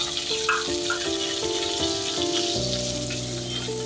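Green chillies and curry leaves sizzle in hot oil for a tempering for bread pakora batter, a loud, steady close-up crackle with popping bursts and a bright hum running underneath throughout.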